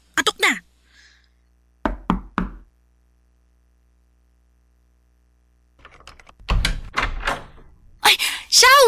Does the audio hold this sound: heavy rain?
no